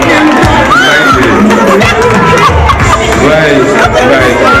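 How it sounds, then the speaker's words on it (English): Cheering and clapping from a crowd at a retirement party at Marina del Rey, a loud, steady wash of applause and excited voices that runs without a break throughout. "Give her a round of applause."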